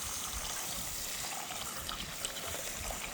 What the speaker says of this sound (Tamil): இதுக்கு நான் தண்ணி விட்டு ஒரு 2 மணித்தியால் ஊற விட போகிறேன்.